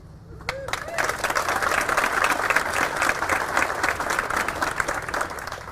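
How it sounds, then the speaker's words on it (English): Crowd applauding cheer and pom teams at the Collierville Kroger ribbon cutting ceremony, with dense, steady clapping that holds loud and even for several seconds and maybe a voice faintly beneath. "I'd like to give a round of applause to our Collierville cheer and pom teams"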